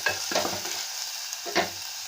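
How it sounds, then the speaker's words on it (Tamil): Onion, tomato, garlic and curry leaves sauté in a pan, with a soft continuous sizzle broken by two brief scraping stirs of the spoon near the start and again about a second and a half in. "இது நல்லா வதக்கி விடலாங்க."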